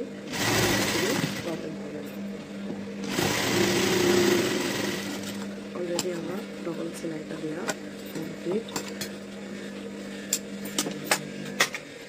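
A sewing machine double-stitches the neckline of a kurti in two loud continuous runs near the start, then quieter stop-start stitching with small clicks while people talk over it.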